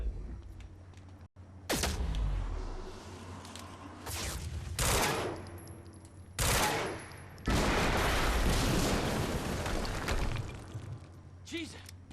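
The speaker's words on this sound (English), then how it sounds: "HQ, we just heard an explosion near the harvesting perimeter." Explosions and bursts of gunfire in the video game Quantum Break, loud repeated blasts and sustained rattling fire, with a voice speaking over parts of it.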